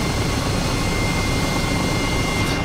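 A helicopter flying over a natural harbour gives off a loud, steady broadband engine and rotor roar close by.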